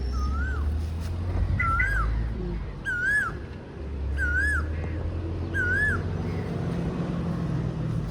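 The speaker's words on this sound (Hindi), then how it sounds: "कहीं से कोयल की आवाज़ आ रही" An Asian koel calls outdoors near wheat fields, several rising whistled notes repeated at a steady pace, moderately distant, over a low rumble of background hum and traffic.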